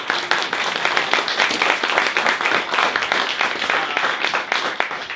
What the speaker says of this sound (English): round of applause for these people for helping out.